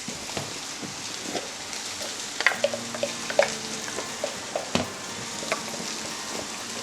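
Onions sauté in a pan for mushroom biryani, giving a soft, steady sizzle with scattered ticks and clinks as the pieces are stirred.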